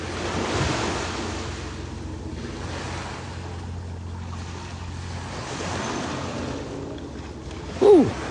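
Ocean surf rolls in at a beach where a dog is surfing, a steady broadband wash of breaking waves with wind buffeting the microphone throughout, plus a brief louder gust near the end.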